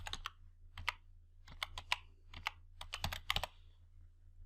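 Keys on a computer keyboard clack in short, uneven bursts with brief pauses, close and quiet, as a date is typed into an Excel cell.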